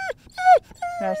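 A dog at Lake Brienz in Oberried, Switzerland, whimpers in two high, nasal, drawn-out whines with a pause between, close and fairly loud.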